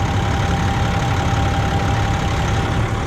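A toy dump truck's motor runs close and loud in a steady, unbroken drone with a faint thin whine on top and no pauses or voices.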